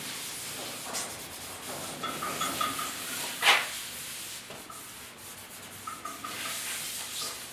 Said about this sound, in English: you can finish off with a scuff cloth